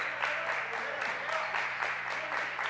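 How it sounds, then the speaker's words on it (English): A basketball game crowd claps in a steady, rhythmic beat, several sharp claps per second filling the gym, moderately close and unbroken. "And we hear that clapping again."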